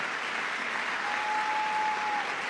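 Steady applause from an audience during a congressional speech, a dense, even wash of clapping at moderate volume, alone, with a faint sustained tone running partway through.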